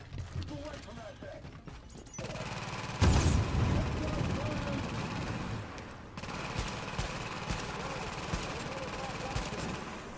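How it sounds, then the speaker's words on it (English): A gas tank blows up in the Tom Clancy's The Division video game, a loud burst of gunfire-like booms and rumbling blast noise over a few seconds, followed by lingering crackle, with a voice talking intermittently. "managed to hit the gas tank. It should blow up nicely."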